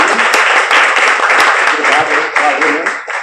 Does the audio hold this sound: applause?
yes